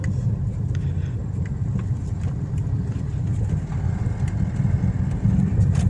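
A 2017 Toyota Vios petrol engine pulling uphill, a steady low drone with road rumble heard from inside the car, fairly loud and unbroken throughout.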